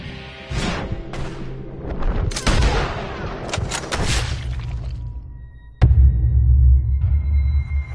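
Gunfire rings out in the Western game Red Dead Redemption II: a rapid exchange of sharp shots and heavy reports, some echoing far off and others close, ending in one loud nearby blast followed by a deep rumble.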